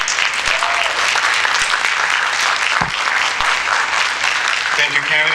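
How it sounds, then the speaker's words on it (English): Audience applause after a candidates' debate: loud, sustained clapping from a crowd filling the whole clip, with a voice briefly rising above it near the end. "You may now applaud."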